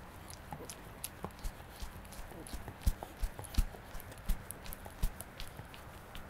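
Hooves of a mare trotting slowly clip-clop in a steady, soft rhythm on firm ground, moderately close, with faint voices in the background.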